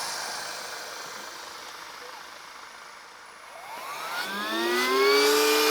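An electric air pump held against the valve of a camper van mattress starts up after a stretch of low background hum. It rises into a loud whirring whine that climbs in pitch over the last two seconds.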